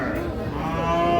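A Sahiwal cow with her calf lets out a close, drawn-out moo at a cattle market, rising and swelling toward the end.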